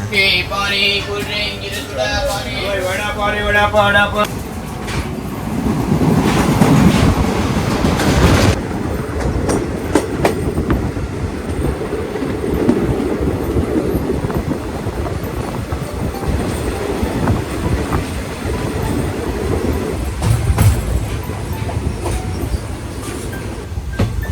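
A Konkan Railway train runs steadily along the tracks, a loud continuous rumble with rhythmic wheel clatter and occasional squeal, close and sustained throughout, with a brief voice near the start.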